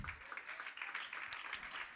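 A church congregation claps during a sermon, a faint, steady patter of many hands that carries on without pause.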